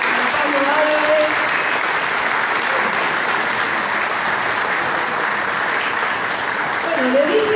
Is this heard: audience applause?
yes